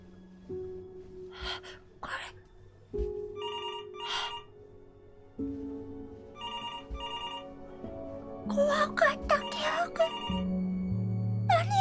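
A telephone rings in the video game Before Your Eyes, sounding several separate electronic ring bursts spaced apart over soft game ambience and brief breathy gasps.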